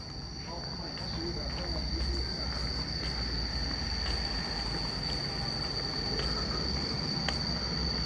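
A train runs along railway tracks in Laos on a trip between stations, its steady low rumble continuous and fairly close throughout, with a faint high insect-like whine above and no clear talk.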